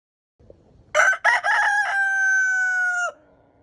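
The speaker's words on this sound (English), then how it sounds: "Rooster. Rooster." A rooster crows once nearby, a loud cock-a-doodle-doo with a couple of choppy opening notes and a long sustained final note, alone in quiet surroundings.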